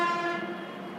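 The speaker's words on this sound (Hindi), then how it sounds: "कितना हॉर्न मारेगा भाई" A single sustained train horn blows outside, heard from a distance, steady then slowly fading across the short stretch.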